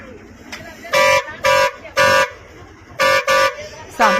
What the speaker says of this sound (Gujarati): વાહન ચાલક હોર્ન મારે છે